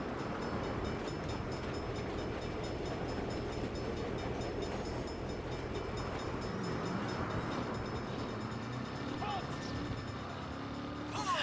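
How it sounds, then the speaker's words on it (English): A train rumbles past in the video game Saints Row (2022), a steady rolling drone heard under game audio and voices talking throughout. "Bad time for a train."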